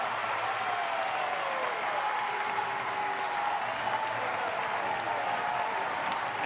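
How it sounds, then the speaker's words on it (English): Louisville baseball stadium crowd at the NCAA championship against Miami roars and cheers steadily as fans rise to their feet, a dense, sustained wash of noise with a few whistles cutting through. "already this crowd coming to its feet in Louisville"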